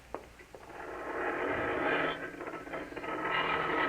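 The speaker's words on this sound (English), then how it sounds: "You open the garage door, then jump into the car." Garage door opening as a radio drama sound effect, a rattling mechanical grind with a ratcheting clatter that swells and holds steady, fairly loud and without voices.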